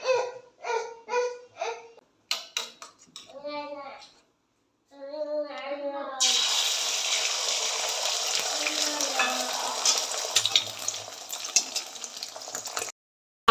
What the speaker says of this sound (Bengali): দাও ডিম ভাজবো দাও